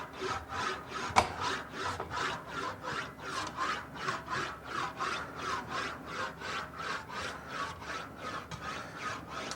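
Sheet metal for a motorcycle fuel tank rolled through an English wheel, a steady rhythmic rasping rub repeating about twice per second, close and loud, with one sharp click early on and no talking.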